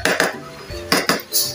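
A metal pot lid clanks several times as it is set back onto a pot of cooking pancit miki, with sharp close knocks and a brief rattle.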